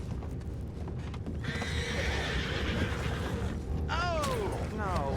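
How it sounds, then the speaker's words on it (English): Horses in Red Dead Redemption II whinny with rising, wavering calls and their hooves clop steadily beneath, set against background game ambience and murmured voices. "You mind the horses?"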